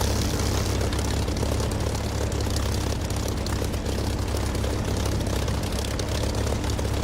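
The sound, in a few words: piston engine warbird flying in DCS video game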